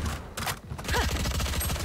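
Gunfire in the video game Valorant: rapid bursts of shots, close and loud, with a short pause before a dense rattling stream of fire takes over.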